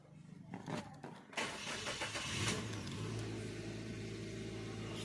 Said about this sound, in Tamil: வண்டி இப்போ ஸ்டார்ட் பண்ணுறேன்.